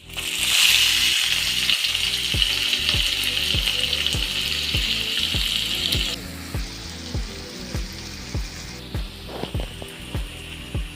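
Onions drop into hot oil with mustard seeds and curry leaves for a broad beans curry, setting off a loud, steady sizzle that quiets after a few seconds, followed by rhythmic stirring taps against the pan.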